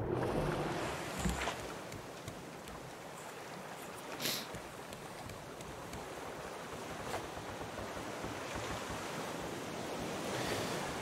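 Ocean waves wash and lap steadily in the video game Raft after the character falls into the sea, a continuous watery surf with a slight swell near the middle.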